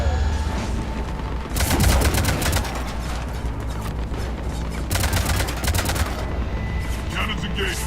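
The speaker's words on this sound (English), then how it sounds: "Cannons engaged." Rapid gun cannons firing in a video game, sustained bursts of fast repeating shots with booming impacts, two main volleys separated by a brief pause, loud and close.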